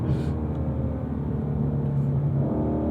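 A 2018 Ford Mustang Shelby GT350 engine hums steadily from inside the cabin while driving, a continuous low rumble that holds even for the full stretch with a slight rise near the end.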